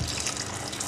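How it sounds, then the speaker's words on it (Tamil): Water poured onto jaggery to dissolve it while making sweet potato paniyaram: a brief, steady, close splashing pour with no talk. "இதில் கொஞ்சமாக தண்ணி சேர்த்து நல்லா கரைச்சி வடிகட்டிக்கலாம்."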